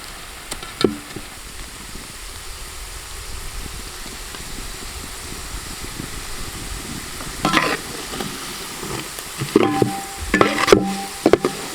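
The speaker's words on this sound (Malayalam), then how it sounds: "ഫ്രൈ ചെയ്തെടുക്കാം" Curry leaves frying in hot oil in a pan for a masala chickpea dish: a steady close sizzle and crackle, with several sharper spatters and stirring knocks near the end.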